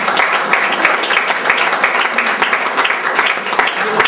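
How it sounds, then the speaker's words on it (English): Room full of people at a school board gathering applauding school workers and volunteers, a steady wash of clapping from many hands at moderate distance, no voices over it. "keep your hand raised and let's all give you a round of applause."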